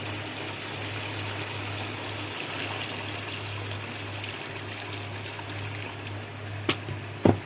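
Water poured into a pan of simmering fish curry with potatoes gives a continuous soft trickle and wash, close and steady, ending with a couple of brief knocks.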